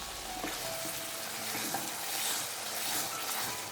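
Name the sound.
spices with kasuri methi frying in pan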